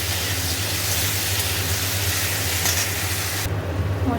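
Tomato and ginger paste sautéing in a pan give a steady, close sizzle and hiss that holds level throughout, with no talk.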